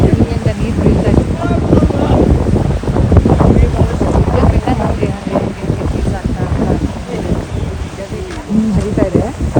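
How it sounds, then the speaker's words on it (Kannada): Strong gusting wind buffets the microphone in a cold mountain valley beside a frozen waterfall by the Spiti River, a loud continuous roar with rushing, surf-like swells throughout. "ಫ್ರೋಝನ್ ವಾಟರ್ಫಾಲ್ ಈಗ ತುಂಬ ಗಾಳಿ ಇದೆ."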